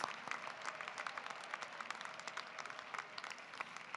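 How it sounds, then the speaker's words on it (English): A commencement crowd applauds new bachelor's degree recipients at the Class of 2020 ceremony, with steady, dense clapping that sounds faint and distant and continues without a break. "a round of applause for our new bachelor's degree recipients"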